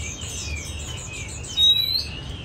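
Caged songbirds offered for sale, including a thin-billed warbler type, give faint, repeated high chirps and thin tweets over a steady low hum, with one brief sharper whistle standing out near the end.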